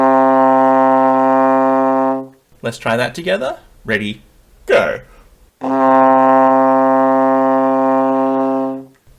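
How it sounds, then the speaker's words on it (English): A trombone holds a low C with the slide out in sixth position, a long steady tone, broken by a man's short spoken cue before the same sustained note returns, close and even. "C, the slide should be out in sixth position"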